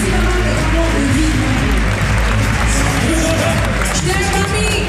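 A crowd at a live comedy show claps and cheers for a performer's mother, a dense, loud wash of applause with scattered whoops and voices throughout.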